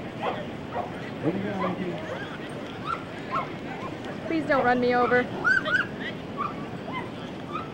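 Several dogs bark, yip and whimper at a dog 5k race in Jacksonville, with a burst of barking in the middle over steady crowd noise while people talk close by.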